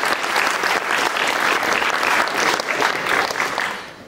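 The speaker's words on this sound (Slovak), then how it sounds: "posielame ti potlesk do zákulisia" Audience at a school gala concert applauds steadily, dense loud clapping from a full hall sustained throughout with no talk over it.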